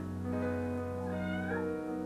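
A cat gives one drawn-out, tonal meow, close and moderately loud, rising and then bending downward before it ends.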